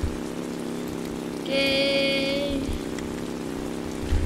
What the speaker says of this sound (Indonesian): hujan lah.